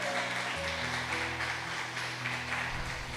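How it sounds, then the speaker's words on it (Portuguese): Church congregation claps during a sermon, a steady mass of applause blended with sustained keyboard chords underneath, holding level for a few seconds. "Pode aplaudir Jesus."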